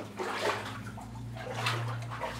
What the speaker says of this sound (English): a little bit of water to slop through here